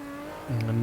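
A hypercar on a wet Silverstone circuit, engine note droning steadily, then shifting and rising in pitch as the car takes the final corners, under commentary.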